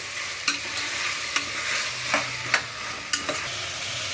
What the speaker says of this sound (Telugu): టమాటాలు ఫ్రై అయిపోయాయండి బాగా